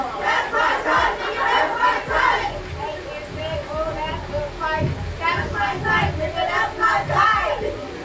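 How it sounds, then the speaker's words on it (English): A large crowd roars and shouts in rolling waves, dense and loud, with voices blending into a continuous cheering din that swells and dips. "People fake cheering."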